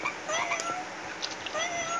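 A cat meows repeatedly, with short high-pitched synthetic-sounding calls over a steady electronic background hum.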